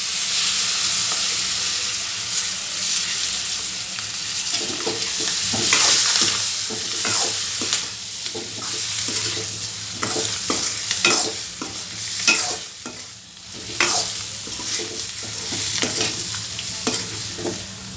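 Garlic egg roast with coriander leaves and lemon juice sizzles in a pan while being stirred, a close, continuous frying hiss broken by repeated scraping strokes of the spoon, with no talking.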